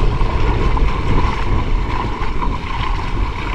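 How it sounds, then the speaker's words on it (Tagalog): Strong wind roars steadily across the microphone on a fishing boat at sea while netting mullet, a continuous loud buffeting rush that never lets up, with no talking. "Oh, lakas ng hangin"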